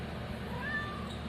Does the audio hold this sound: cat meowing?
yes